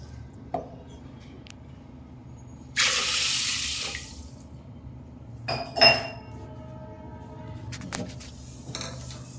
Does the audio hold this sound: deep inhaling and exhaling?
no